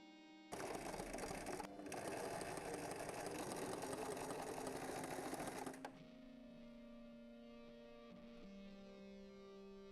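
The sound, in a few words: sewing machine sewing trouser panels together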